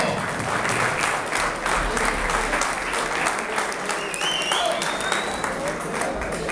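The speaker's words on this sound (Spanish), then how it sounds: "Fuerte ese aplauso." A crowd at a boxing night in Ezeiza, with an international title fight on the card, gives sustained, dense applause that stays steady and loud for several seconds.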